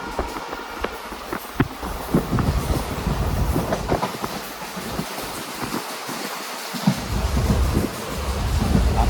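Dooars Queen passenger train running past Hasimara through tea gardens, heard from inside a carriage: a steady loud rumble of wheels on rail with rattling and clattering joints throughout, no talking.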